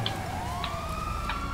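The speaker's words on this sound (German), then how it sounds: "Tim hat gerade ein Auto geklaut und wird leicht von der Polizei verfolgt." In the video game GTA 5 Online, a police car siren wails with a slow, rising tone, held steady and moderately loud against a constant engine-like rumble.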